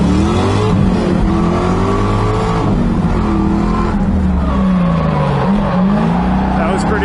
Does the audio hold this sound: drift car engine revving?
yes